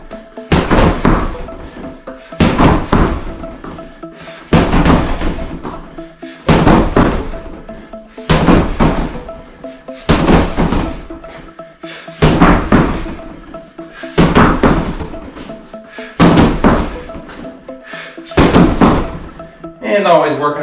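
Gloved jabs and punches thud into a heavy punching bag in a boxing and MMA workout, about ten heavy impacts in loose pairs and clusters, loud and close, with a voice talking between hits.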